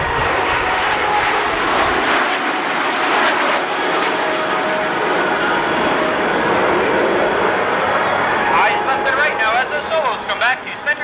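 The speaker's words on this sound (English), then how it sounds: "As the team executes the arrow silhouette, watch Snowbird 4, Captain Vinnie Janrish" Canadian Snowbirds jet aircraft flying an airshow formation make a loud, continuous engine roar throughout, with an announcer talking over the noise.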